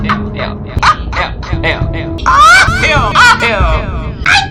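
A dog yips and barks in quick, high bursts, repeated several times over a few seconds, mixed in with loud talking and shouting.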